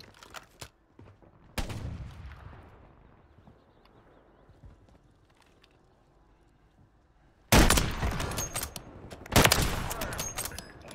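Gunfire from a video game shootout, with a sharp shot early on and then dense, loud bursts of rapid fire near the end, following a quieter stretch with a faint rumble.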